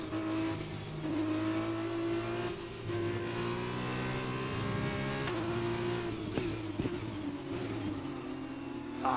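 An F2 2021 Formula 2 car in Bahrain brakes very late into a lock-up, its engine whining and dropping through the gears while the revs fall and rise again, loud and close.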